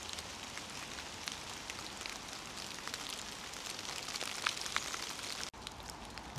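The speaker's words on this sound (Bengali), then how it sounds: "বেশ ভালো বৃষ্টি হচ্ছে" Steady hiss of sudden heavy rain falling on surfaces in Amersham, near London, with scattered drops, constant and moderately loud, briefly cut off near the end.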